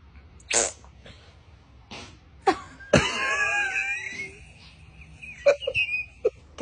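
A person's fart, several short bursts followed by one longer, louder and sputtering release, then a few brief trailing pops in a quiet room.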